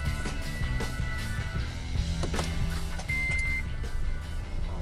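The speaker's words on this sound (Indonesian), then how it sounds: "Jadi kayak ada bunyi cetak-cetak dari baterai yang ada di belakang." A Wuling Almaz RS hybrid starts up, with light repeated clicking from the battery at the rear of the car over a steady low engine hum.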